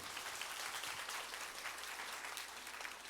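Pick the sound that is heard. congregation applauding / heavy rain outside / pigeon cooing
congregation applauding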